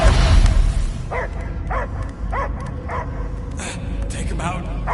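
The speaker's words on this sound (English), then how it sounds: "I hear only barking." A dog in the Guardians of the Galaxy video game gives a run of short, repeated barks and yips at an even pace, set under busy game sound and voices.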